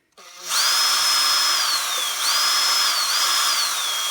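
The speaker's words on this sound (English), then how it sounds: "get your battery drill, sticking your battery drill on there" A battery drill spins up and runs at a steady high whine while lapping an exhaust valve, with slight pitch dips as the load changes, loud and close.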